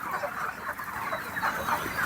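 Chickens at a poultry farm cluck and murmur together as a soft, continuous flock chatter with small rises and falls, fairly quiet and with no talk.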